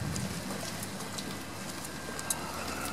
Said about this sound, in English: It's that Seattle-style rain where it's just barely here.